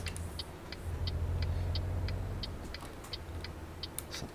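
A truck engine drones low and steady in Euro Truck Simulator 2, fairly faint, with a regular ticking like a turn signal clicking over it throughout.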